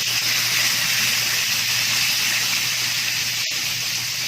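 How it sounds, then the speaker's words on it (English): A pound of pork shoulder sizzles in vegetable oil in a pan, a loud, steady frying hiss that runs continuously with a brief click near the end. "And we're going to saute this up."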